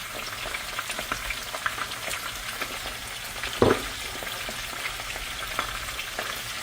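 A full pan of potatoes fries with a steady, close sizzle and faint crackles, broken by a single sharp clank near the middle, with no voices.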